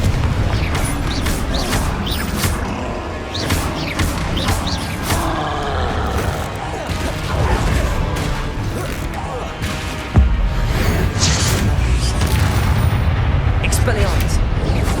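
Confringo blasting spells in Hogwarts Legacy on PS5 Pro burst repeatedly with loud crashing explosions amid constant combat clatter and booms, while a voice shouts in the fight.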